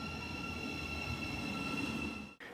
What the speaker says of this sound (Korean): 런던인 테임스 링크 기차가 도착합니다.